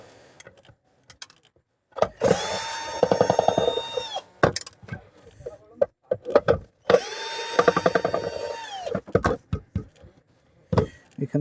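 Nuts being unscrewed on a broken mixer grinder during repair, two long runs of a buzzing powered screwdriver or drill with scattered clicks and taps between them, close and loud.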